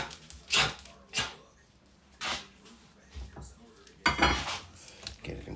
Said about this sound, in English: All right, chop the end. All right, let's get a little good choppings.